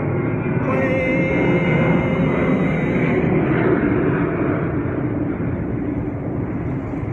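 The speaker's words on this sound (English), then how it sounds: "Sorry about the plane. I live under a flight path." An airplane roars overhead as a loud, steady low rumble and whine that fills the whole stretch without letting up.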